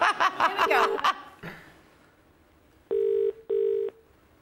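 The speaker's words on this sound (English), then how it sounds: "It's ringing." Brief laughter and chatter, then two electronic telephone ring tones in a row, clear and evenly spaced, heard down a phone line.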